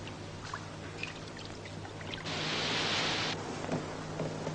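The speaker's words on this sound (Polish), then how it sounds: "Umieszczamy ponownie szczura z prawego akwarium, z prawego akwarium do wody. Szczur ponownie pływa." A rat swimming in water in a laboratory aquarium, with continuous soft sloshing and trickling that swells into a louder, denser splash for about a second midway, then settles back to steady rippling.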